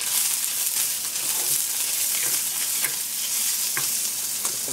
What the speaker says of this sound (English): Now you can see that's already browning nicely on one side.